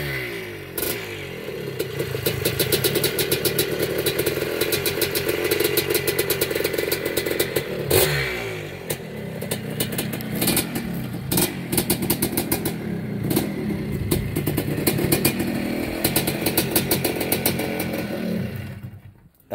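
A 1982 Maico MC250 MX two-stroke motocross bike runs close by, a loud, steady raspy idle broken by sharp throttle blips and revs throughout, fading off at the end.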